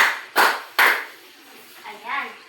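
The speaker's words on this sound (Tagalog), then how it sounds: "Bigyan natin ng 3 palakpak ang inyong mga sarili." A classroom of students gives a few quick group claps, two loud bursts close together, followed by faint voices.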